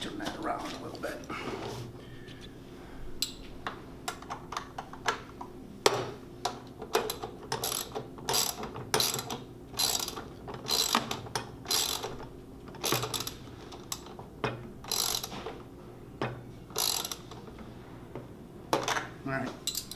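Quick bursts of metallic ratchet clicking from a 10mm ratchet tightening a part on a Chapin spreader, in irregular clusters with brief pauses between them, fairly close and moderately quiet.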